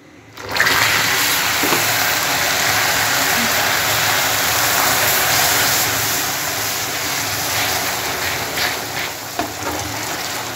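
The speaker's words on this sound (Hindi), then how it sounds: "ये देखिए चीनी बिल्कुल पिघल चुकी है, अब हम इसमें थोड़ा सा पानी डालेंगे तो ये उड़ेगी" Water poured onto fully melted sugar in a hot pan while making mutton aloo gosht: a sudden loud hissing, bubbling sizzle that starts abruptly and stays dense and steady, easing slightly toward the end.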